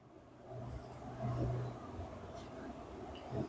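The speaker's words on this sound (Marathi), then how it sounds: "त्याने स्वतःची गाडी त्याच्या मागं दामटली" A car is driven off in pursuit as a dramatic sound effect: a quiet mid-pitched engine swells and revs briefly, then settles into a faint, steady drone.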